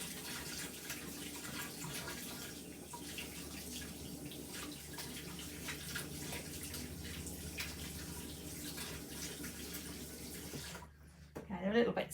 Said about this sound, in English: let me give my hands another wash